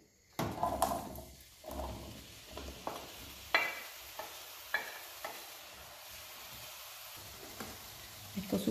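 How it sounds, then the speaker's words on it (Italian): Diced eggplant drops into hot olive oil in a pan, setting off a faint frying sizzle broken by scattered clacks and knocks of the pan and utensils, with no talking. "Ho messo a scaldare in padella un bel giro d'olio e adesso aggiungiamo le melanzane"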